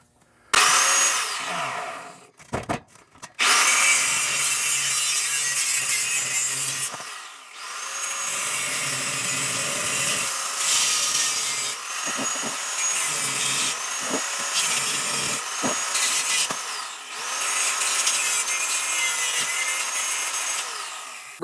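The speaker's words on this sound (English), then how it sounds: "we're going to get fancy with the grinder, cut this off, cut that off" An angle grinder cuts through the metal fittings of a leaking air horn system on a 350-swapped Chevy S10: loud, close, harsh grinding in long bursts with brief pauses and changes in pitch as the disc bites, and no talking.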